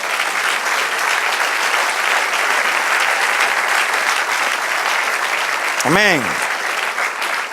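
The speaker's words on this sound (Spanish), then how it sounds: "Denle otro aplauso al Señor." Church congregation applauding steadily as one continuous wash of clapping, with a preacher's voice speaking over it and a brief sung or called-out phrase near the end.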